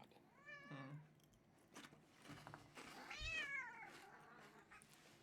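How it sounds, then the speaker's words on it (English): A pet cat meows indoors, several drawn-out, rising and falling cries close to the listener with short pauses between them, with no talk over them. "Sorry, my cat's going crazy."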